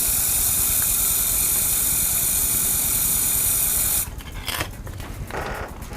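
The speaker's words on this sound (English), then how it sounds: "What I like to do is to decant the paint" Spray paint hissing from an aerosol can as it is decanted for airbrushing a Tamiya GF-01 Land Cruiser model, a steady loud hiss for about four seconds, then stopping, followed by two short bursts.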